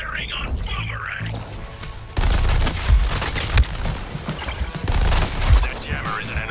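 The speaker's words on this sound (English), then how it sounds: "Firing on Boomerang!" Gunfire in the video game Suicide Squad Kill the Justice League, with bursts of rapid automatic shots and heavy thuds under game voices and music.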